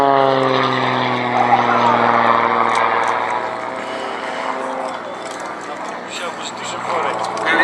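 A propeller-driven aerobatic aircraft performs at the Duxford VE Day air show in 2015, its engine a loud, steady, droning harmonic roar that shifts in pitch as the plane passes and then eases slightly.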